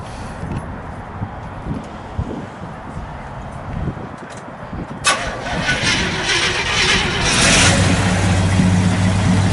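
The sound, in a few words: 1973 International Scout II engine starting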